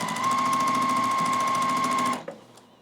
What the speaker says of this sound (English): I'm just going to make sure everything's lined up and sew.